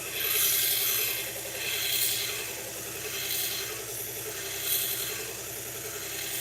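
A knife blade is drawn repeatedly across a Toolker sharpener while working the tip and edge angle. Steady rasping strokes swell and fade about once a second, close and moderately loud, with no talk.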